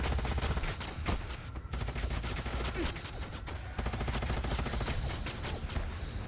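Rapid, dense gunfire in the sci-fi strategy video game Age of Wonders: Planetfall, loud bursts of repeated shots layered over a continuous game soundtrack with no talking.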